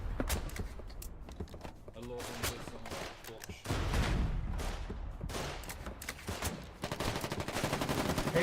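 Gunfire in the video game Foxhole, rapid overlapping bursts of shots and booms under shouting and talk, moderately loud with a dense battle backdrop throughout.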